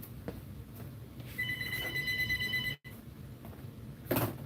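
A shop telephone rings in one electronic trilling burst lasting over a second, fairly loud against quiet background noise, followed by a brief clatter.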